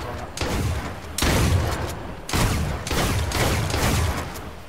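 Sustained bursts of gunfire from the H1Z1 video game, loud and dense, with sharp onsets around 1.2 and 2.3 seconds and continuing shots throughout, with no talk over them.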